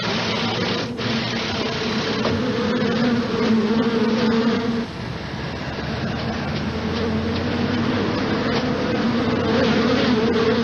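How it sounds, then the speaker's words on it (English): A swarm of bees makes a dense, steady buzzing drone, close and continuous throughout. "I didn't even notice the bees were on me until they started stinging. Millions of them."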